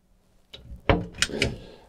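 A storage flap in the kitchen block of a Eura Mobil Profila T 675 SB motorhome, mounted low in front of the gas locker, gives a few short, close knocks and clacks as it is handled, with no talk over it.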